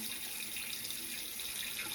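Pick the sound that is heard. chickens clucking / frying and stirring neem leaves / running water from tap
running water from tap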